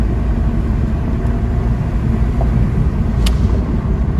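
Acura RSX Type S with a K24 engine swap and a flat tire driving, a loud steady engine and road rumble heard from inside the car with wind buffeting and no talking.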